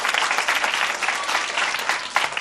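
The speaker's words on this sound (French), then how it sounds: "que je vous demande d'applaudir très très fort." Studio audience applause at a children's television program, steady dense clapping filling the whole stretch with a slight swell near the end.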